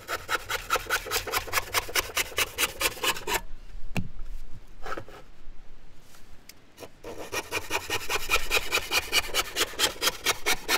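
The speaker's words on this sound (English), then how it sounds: "when you are cutting through your timber" A hand saw cuts through timber for a bird box in steady back-and-forth strokes, close and loud, with a pause in the middle before the rhythmic rasping sawing resumes.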